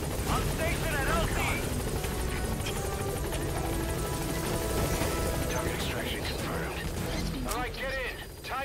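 Support helicopter from the video game Metal Gear Solid V arriving, a steady loud rotor drone and mechanical whir filling the whole stretch with faint radio chatter and game sounds layered over it.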